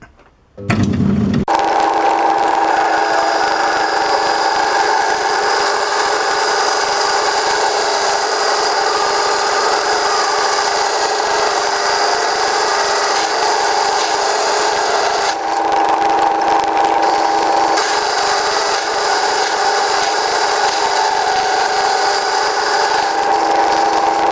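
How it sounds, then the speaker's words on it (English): A power drill runs steadily at low speed for a long stretch, drilling out a pilot hole in a mounting plate for a Myford vertical slide, a constant whirring hum with a brief dip partway through, close and loud. "for the centre pin for it to sit on there. And we'll drill that out."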